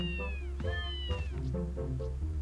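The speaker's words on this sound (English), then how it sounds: "So many cats!" Several cats in the video game Legend of Zelda Twilight Princess HD meow in quick succession, with rising and falling cries overlapping loudly over a low background hum.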